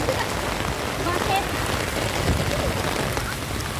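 Heavy rain pours steadily onto a street at a traffic light, a dense continuous hiss of drops close by, with a brief voice speaking over it.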